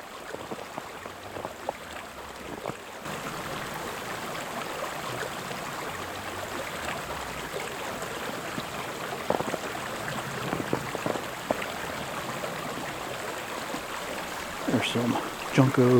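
A creek runs through a snowy park in winter, a soft steady wash of flowing water heard from nearby, with some small knocks and footsteps mixed in.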